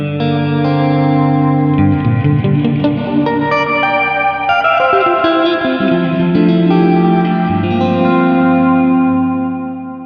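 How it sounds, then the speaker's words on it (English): Electric guitar played through a Strymon Nightsky reverb pedal: sustained chords bloom into a dense, shimmering wash of reverb and modulation that rings on continuously without a gap, with no voices. "you can get a lot of variety out of this pedal and some really cool sounds, some very unique reverb sounds"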